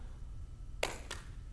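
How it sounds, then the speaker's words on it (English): Two sharp hand claps, the second softer, made while tossing and catching a ball in a quiet room, with a faint tap near the end. "add a clap"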